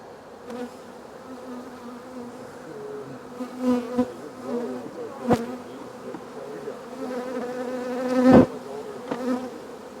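Honey bees buzz around colonies being split in a bee yard, a steady droning hum with individual bees swelling louder as they fly close past.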